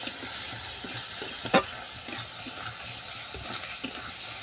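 Chopped and grated tomato with chili powder and spices being stirred and sautéed in a pan: a steady low sizzle with scraping stir strokes and one sharp utensil clink near the middle, with no talking.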